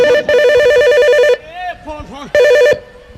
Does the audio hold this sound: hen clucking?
no